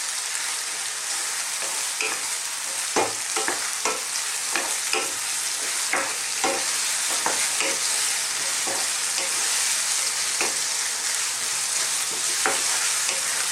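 Chicken and mushroom curry with spices sizzling in a pan while being stirred, a steady close frying hiss broken by repeated scraping and tossing clatters of a utensil.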